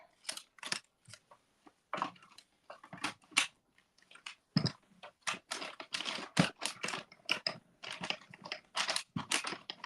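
A die-cutting machine presses paper through a metal die held in place with tape, giving irregular crunching clicks and ratcheting bursts close up, busy and continuous for the whole stretch with only brief gaps.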